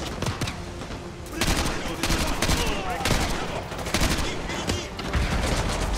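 Dense bursts of automatic gunfire and rapid shots rattle almost nonstop in Call of Duty Modern Warfare 2 Remastered campaign combat, loud and close, with brief pauses between volleys.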